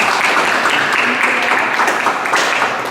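Steady classroom applause for a student group, dense and continuous at a moderate level throughout with no pauses.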